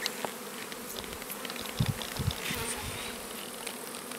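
Honeybees buzz in a dense, steady drone around a comb frame filled with honey during harvest, close and continuous, with faint handling knocks underneath.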